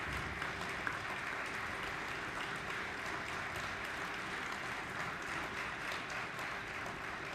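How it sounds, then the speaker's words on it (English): Faint, steady applause from the crowd at a high school wrestling triangular meet, continuous and distant-sounding for several seconds with no talk over it. "It's hard to see a round of applause there from the Mustang faithful"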